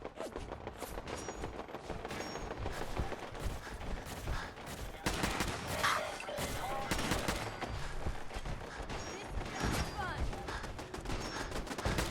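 Automated turrets in Fallout 4 fire dense, sustained bursts of gunfire, a continuous clatter of shots filling the whole stretch with occasional heavier volleys and background game noise.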